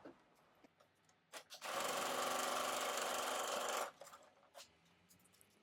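Sewing machine stitching a quilted makeup bag, a steady motor whir running about two seconds, bracketed by soft handling taps and rustles before and after.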